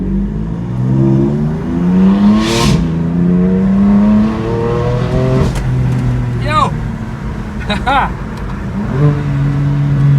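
BMW M4 GTS or Jaguar F-Type SVR accelerating hard through rising gears, engine pitch climbing and dropping at each shift, loud and close inside the car with a voice briefly over it.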